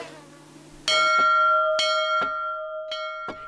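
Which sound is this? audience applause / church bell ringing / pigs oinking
church bell ringing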